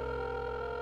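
A steady telephone dial tone from the Crowns and Pawns: Kingdom of Deceit point-and-click game, a continuous electronic hum held evenly and faintly for under a second with no talk.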